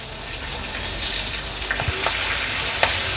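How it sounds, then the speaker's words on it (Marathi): Green chillies hit hot tempering oil with mustard seeds, cumin and curry leaves for Maharashtrian pithla, a strong steady sizzle that swells slightly, with scattered pops and crackles close by and no talking. "आणि हिरवी मिरची फोडणीला घालते।"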